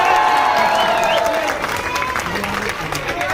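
An audience at a Chhattisgarhi film event claps and cheers in a dense, continuous wash, with a voice speaking over the crowd noise.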